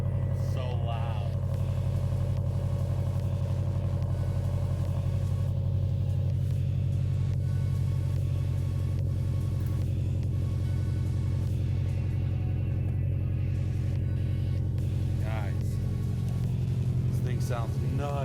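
A 2017 Subaru STI fitted with an Invidia R400 exhaust idles after a cold start, giving a loud, steady deep rumble close by throughout, with voices talking intermittently over it.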